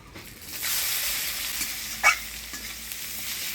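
Onion hits hot oil already seasoned with dried chilli, bay leaf and whole cumin, setting off a loud, steady hiss and sizzle with a brief sharp spatter partway through, and no one talks.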